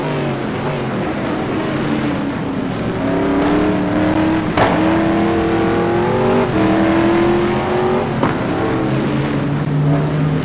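A Saleen S7R GT1 race car at Mugello roars hard and loud, its engine pitch climbing and dropping as it brakes and passes another car, with sharp gear-change blips along the way.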